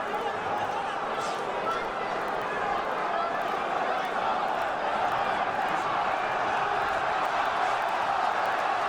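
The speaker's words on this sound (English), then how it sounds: "the crowd in Sheffield beginning to rally" Boxing arena crowd in Sheffield during an Amir Khan versus Julio Diaz fight, a broad continuous roar of cheering and chatter from a large audience, steady and somewhat distant, with a commentator's voice over it.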